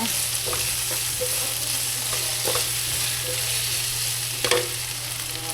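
Chicken stir-frying in a pan for pansit, a steady close sizzle with a few brief clatters of stirring over the frying hiss.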